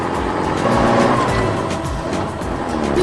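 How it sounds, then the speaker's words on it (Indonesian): A yellow skid steer loader clears rubble from a demolition site, giving a continuous rumbling, grinding machine noise that stays loud and close throughout with no talking. "lihat skid steer loader kuning itu bekerja keras membersihkan puing-puing"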